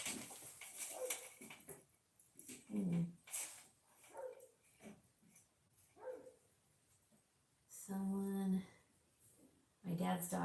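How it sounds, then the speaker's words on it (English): A dog barks in short loud bursts indoors, a few sharp barks spaced apart with a whimpering, yipping quality, between stretches of quiet talking. "My dad's dog is barking."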